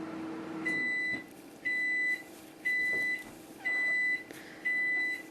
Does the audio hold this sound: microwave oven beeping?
yes